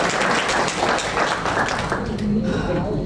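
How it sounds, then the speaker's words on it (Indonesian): An audience applauds at the awarding ceremony of the Bantul culture fiction film competition, a close, full burst of clapping with voices mixed in throughout. "Tepuk tangan dulu,"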